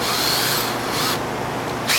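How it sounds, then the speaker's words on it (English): A power drill bores holes through plastic bumper trim, a steady continuous whir with a rough, grinding broadband texture lasting the whole moment, close and fairly loud with no talking. "now we're going to drill some holes to keep it in place"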